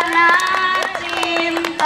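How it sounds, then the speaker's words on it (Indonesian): A group of seventh-grade students at a Friday-Saturday scout camp clap along while singing; several loud sharp claps punctuate the voices in a loose rhythm. "Tepuk tangan dong, sambil tepuk tangan."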